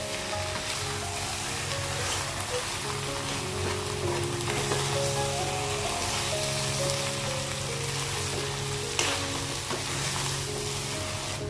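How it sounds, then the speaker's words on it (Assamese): Chicken frying on high flame in a pan for an Assamese dish, a dense continuous sizzle with crackling spatter and occasional stirring, close and steady throughout. "মই হাই ফ্লেমতে ফ্ৰাই কৰি আছোঁ এতিয়াও"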